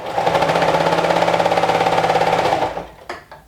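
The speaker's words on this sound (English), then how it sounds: "So let's sew this with a 1/4 of an inch seam allowance" Sewing machine stitching a quarter-inch seam on a Sinclair Alba garment, a loud close rapid mechanical chatter held steady for over two seconds before it stops, followed by two faint clicks.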